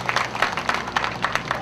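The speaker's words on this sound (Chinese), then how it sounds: "我们这些达人，我们给他们一个掌声" An audience gives a short burst of scattered clapping for farmers at the opening of a Kaohsiung produce flagship store, moderately loud and close.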